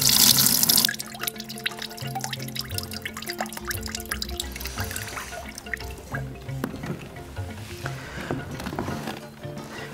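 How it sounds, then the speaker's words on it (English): Lactobacillus serum liquid poured through a net strainer into a bucket, a steady close splashing and trickling stream that runs continuously, with a heavier gush at the start. "I'm going to leave the net on and use that as a strainer, so when I pour the lactobacillus out"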